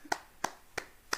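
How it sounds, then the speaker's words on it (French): A few people clap for themselves at home: four sharp, evenly spaced single claps, close and fairly quiet, in a short burst. "on peut s'applaudir"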